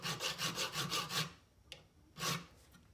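Steel file rasping across the spine of a knife blade, cutting notched file work: about six quick rhythmic strokes, then a pause with a faint tap and one more stroke, close and clear with no talk.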